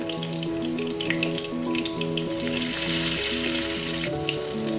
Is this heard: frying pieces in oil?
yes